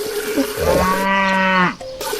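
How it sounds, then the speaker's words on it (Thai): A big cow on a farm in Doraemon Story of Seasons lets out one long, loud, drawn-out moo that slides down in pitch at the end. It stands alone and clear, with no talking. "วัวตัวใหญ่ๆน่ารัก"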